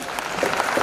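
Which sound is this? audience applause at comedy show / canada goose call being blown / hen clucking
audience applause at comedy show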